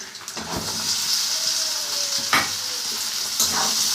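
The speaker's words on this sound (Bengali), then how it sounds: "হালকা লাল লাল ভাজা হয়ে গেছে এবার আমি ভেন্ডিটা এর মধ্যে দিয়ে দেবো" Okra (bhindi) being fried and stirred in a hot pan, a constant sizzle broken by a few sharp scraping stirs, close and clear with no voices.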